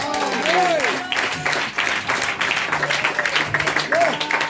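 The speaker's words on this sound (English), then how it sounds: "Clap hands for Jesus." A church congregation at a revival service claps hands together, sustained applause mixed with voices and singing throughout.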